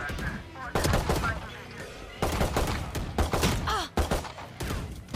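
Quick Classic pistol shots crack in Valorant, several close reports in irregular succession, mixed with in-game effects and a player talking over the action.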